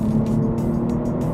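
A JB4-tuned BMW M240i engine pulls hard while powering out of a corner, a loud, continuous drone heard from close by with no talking.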